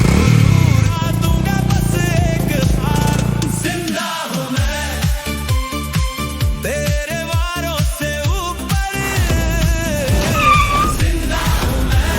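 A motorcycle rides past loudly, its engine note revving and pulsing in a rapid run of bursts, with a car and street sound around it.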